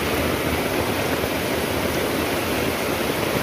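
Rainwater runs steadily through a small drainage canal dug beside a backyard garden, a dense continuous rushing wash like a brook, close and even throughout with no voices.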